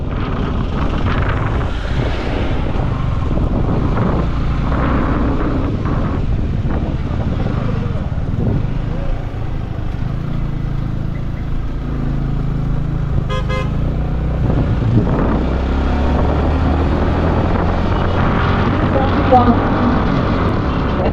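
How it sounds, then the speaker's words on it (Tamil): Heavy traffic on a mountain road near Munnar, where a landslide has slowed vehicles: engines rumble nearby, horns toot now and then, and wind buffets the microphone, with voices faintly present. "Full traffic."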